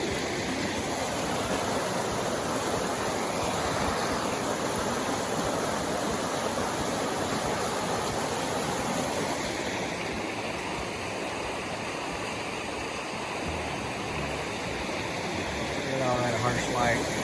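A creek in the Smokies flows in a steady, broad rush of water, continuous and fairly close, with a person talking over it.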